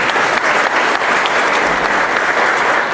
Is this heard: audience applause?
yes